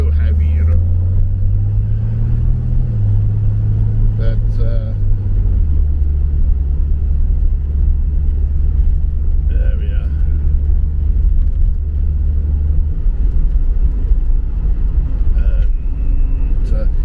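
A car drives on a road in Le Thiel with heavy steering, its loud steady engine rumble and road noise filling the cabin, the pitch shifting a little early on, with someone talking over it.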